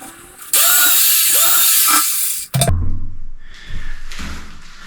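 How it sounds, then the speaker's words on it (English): A power drill drives screws into the wooden frame of an acoustic panel, a loud sustained whirring burst for about two seconds, then a sharp thunk and quieter handling and clatter noises. "we're going to screw the screws in"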